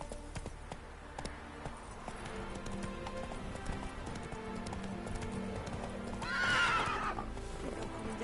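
A horse in the Witcher 3 game clip-clops at a run with a steady hoofbeat rhythm over background game sound, then gives one loud neigh near the end.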